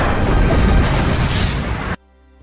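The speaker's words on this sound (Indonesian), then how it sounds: "salah satu rudal berhasil lolos mengenai lambung kapal Harusame" A missile explosion hits a ship's hull: a loud, sustained blast roars for about two seconds, full of deep rumbling and crackling debris, then cuts off abruptly to near silence.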